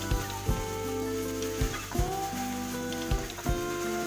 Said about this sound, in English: Now it's time to put the leftover rice. Just stir it together with the kimchi